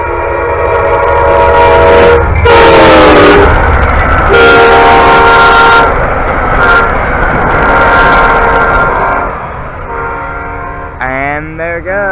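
A passing Amtrak passenger train blasts its horn loudly several times over a heavy rumbling roar that fades at the end, with a shorter trailing tone.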